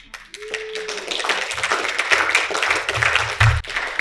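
Audience clapping at a lecture and musical performance, beginning sparse and growing into scattered applause, with a few low thumps and a brief tone near the start.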